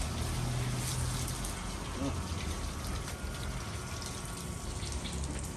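Water sprays steadily onto a 2022 Isuzu FC truck being washed, a loud continuous hiss and gush close by, with voices faintly present.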